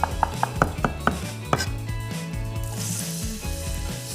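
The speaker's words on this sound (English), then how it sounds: "Grab some garlic and give it a fine slice." A kitchen knife finely slicing garlic cloves on a chopping board, a quick run of about eight crisp, close taps in the opening seconds, then a low steady hum from a pan heating on the stove.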